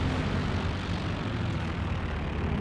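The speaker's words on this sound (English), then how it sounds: "Recon plane up again for Fidelito" Steady droning engine of a recon plane flying over a Company of Heroes 2 battle, a continuous broad roar that holds even and loud throughout, with no voices.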